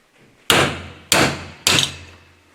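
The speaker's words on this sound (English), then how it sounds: "This involves an angle grinder with the flappy wheel, along with a punch and a hammer." Three sharp metallic blows of a hammer on a punch, knocking out spindles on an Austin Mini, evenly spaced about half a second apart, each ringing briefly before the next strike; close and loud, no talking.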